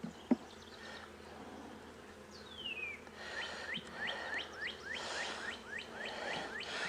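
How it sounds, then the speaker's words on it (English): A dense, steady hum of many honeybees buzzing around a hive close by, with a few quick high chirps repeating over the drone. "As you can see, there's a lot of bees"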